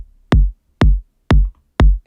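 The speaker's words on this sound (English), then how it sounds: "which is a standard kick, I think from the Tech House pack" Standard tech house kick drum sample: four identical punchy, booming thumps at an even, steady pace, close and loud, alone with silence between hits.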